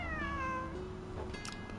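A cat meows in the Lost Ark video game, a few drawn-out, wavering cries over steady in-game background sound, loud and close with no talking.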